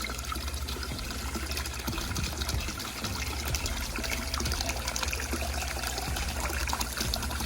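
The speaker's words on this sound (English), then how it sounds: "So we can see just hit the water level and the siphon begins." Water drains from an aquarium aquaponics tub through a bell siphon. Close, continuous trickling and gurgling carry on at a steady level throughout, with small splashes and bubbles.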